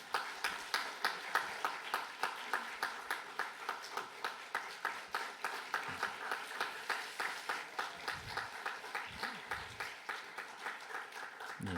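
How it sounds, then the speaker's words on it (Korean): Church chapel congregation at a Korean university claps in welcome for visiting Filipino pastors, a steady rhythmic applause with distinct, evenly spaced hand claps lasting the whole stretch, fairly close and moderately loud. "한번 우리 먼저 박수로 환영하도록 하겠습니다"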